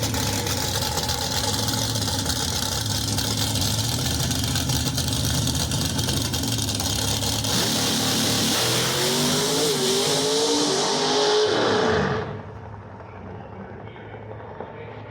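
A nostalgia drag race car roars loudly through a test pass at the Wally Parks Nostalgia Nationals, then the engine note shifts and rises before cutting off sharply into a quieter rumble as the run is aborted.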